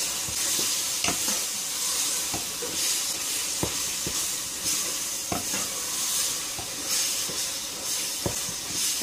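Sliced plantain and grated coconut fry in a pan with a steady close hiss and sizzle, broken by occasional soft taps and scrapes of a stirring spoon.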